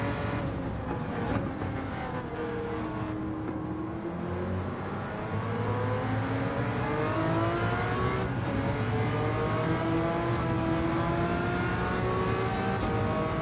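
Race cars including the Lamborghini VGT in Gran Turismo 7 rev and accelerate, engine tones rising and shifting through gears in a loud, steady whine with several cars close by.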